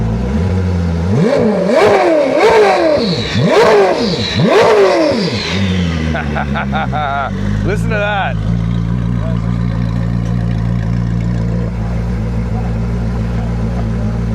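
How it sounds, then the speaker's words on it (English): A Koenigsegg Gemera engine is revved hard several times up close, with sharp rising and falling wails in quick succession, then a short burst and a steady idling drone while people talk over it. "I'll let him rev it so I can get some audio on the outside"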